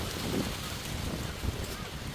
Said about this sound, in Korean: 바람 많이 불어.